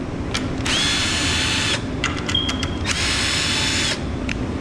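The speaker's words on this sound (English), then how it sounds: "Now let's take the screws out of here." A power drill backs screws out of a wooden tote storage rack: several whirring bursts of the motor, close and fairly loud, separated by brief pauses, with no talk.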